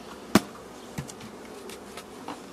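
Honeybees at an apiary hive during a colony inspection give a faint insect hum, broken by one sharp close knock and a few softer taps, with no talking.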